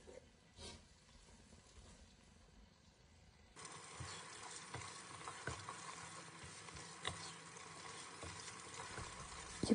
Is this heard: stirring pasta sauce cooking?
yes